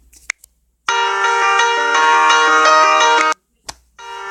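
A Google Hangouts ringtone plays loud and steady for about two and a half seconds, a bright sustained bell-like tone with rich overtones, bracketed by brief clicks and a short restart at the end.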